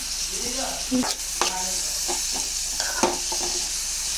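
Beans, carrot and capsicum are tossed in a pan over a tempering, with a loud continuous sizzle and repeated scraping and clattering of a spatula against the pan.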